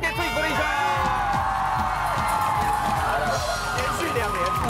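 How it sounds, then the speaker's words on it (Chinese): A studio audience at a Taiwanese TV variety show applauds and cheers in a steady, dense wash of noise, with music and voices mixed in. "掌声给自己鼓励一下。"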